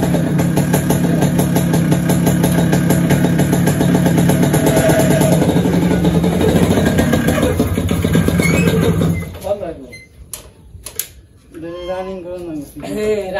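A Honda motorcycle engine idles loudly and steadily up close in a village for about nine seconds, then cuts out, and people talk afterward.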